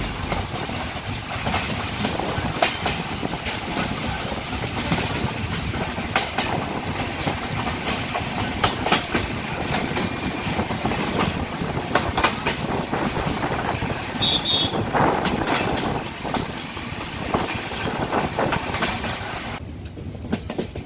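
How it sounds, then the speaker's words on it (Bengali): Loud, continuous rumble and rhythmic clickety-clack of a moving passenger train on Bangladesh railway tracks, heard from inside the carriage, with a steady roar throughout and a brief high squeal near the end. "আমরা ট্রেনের চলাকেই উপভোগ করছি। গতি কখনো ঝমঝম শব্দে, আবার কখনো ঘড় ঘড় শব্দে।"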